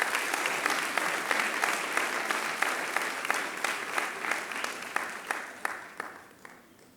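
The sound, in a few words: applause for award recipient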